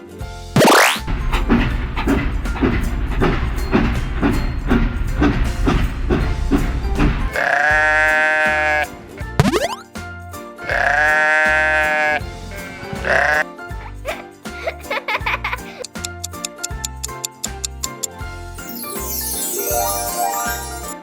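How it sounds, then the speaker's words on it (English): A sheep bleats in a children's farm-animals learning rhyme, two drawn-out wavering baas standing clearly over cheerful background music. "Sheep."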